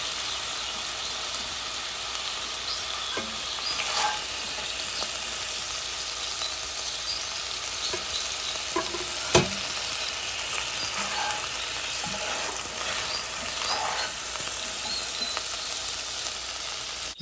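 Chicken pieces browning in a soup pot give a steady, fairly loud sizzle, broken by scattered clicks and scrapes of stirring and one sharp knock near the middle, with no voices.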